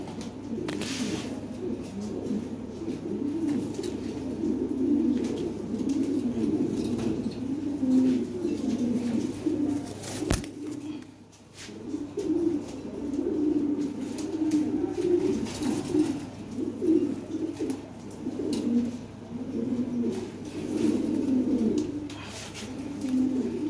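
European Lahori pigeons at a pigeon fair, many birds cooing in overlapping rolling coos that continue steadily, with a sharp click near the middle and a short lull after it.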